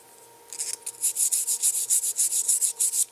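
Sandpaper rubs the edge of a Eurorack VCO kit circuit board in a rapid back-and-forth rhythm of about a dozen close, scratchy strokes over a faint steady hum.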